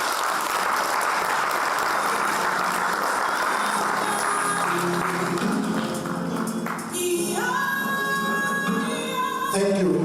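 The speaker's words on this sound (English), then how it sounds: "Let's give him another round of applause" Audience applause at a men's business leadership conference, a steady wash of clapping from a large crowd lasting throughout, with some tonal background music or sounds entering in the latter part.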